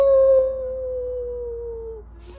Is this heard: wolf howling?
yes